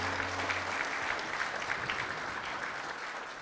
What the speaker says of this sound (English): Applause for Miss Divine Mercy Suafia.